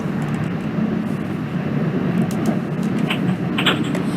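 A Class 221 Super Voyager in Virgin livery rolls past in the OpenBVE train simulator, a steady broadband rumble of engine and wheels holding at an even, fairly loud level throughout with no talk.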